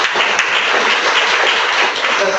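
Audience applause at a public talk on endocrine disruptors and chemical pollutants, a steady wash of clapping that stays loud and even for its brief length.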